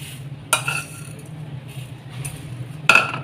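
Nigella seeds spooned onto an empty plate, a quiet background hum broken by two sharp metallic clinks of a spoon against the plate, the first near half a second and a brighter one near the end.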